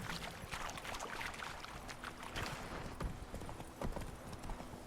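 Horse hooves clip-clop in The Witcher 3 in a steady walking rhythm, close and fairly even over a busy ambient game background, with no talk.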